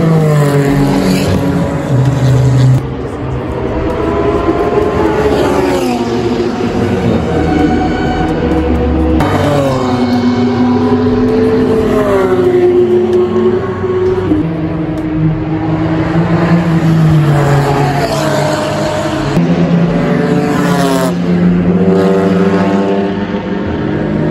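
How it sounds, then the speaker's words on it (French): A Ligier SP4 race car on the Le Mans circuit, its engine note rising and falling through repeated gear shifts, loud and sweeping as it passes, with no voices. "Il y a la Ligier SP4 qui arrive tout là-bas."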